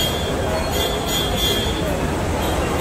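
The Matsyagandha Express sits at Kudal railway station at night, giving a loud, steady rail rumble with a faint high squeal and no breaks or pauses.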